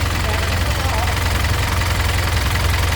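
A Hino FC9J truck with a 175-horsepower engine runs at a steady, loud idle, a continuous low rumble with slight knocking texture and no break.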